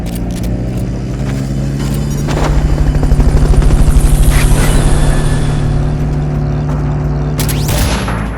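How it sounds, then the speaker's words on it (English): A video game helicopter from Metal Gear Solid: Peace Walker, its rotor thumping in a loud, steady pulsing drone with low engine rumble, swelling in the middle, with occasional clanks and bursts. "Fulton recovery helicopter is complete."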